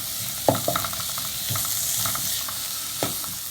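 Onion, ginger and garlic fry in coconut oil in a pan, giving a steady close sizzle broken by several clattering scrapes of a spoon stirring through the mixture.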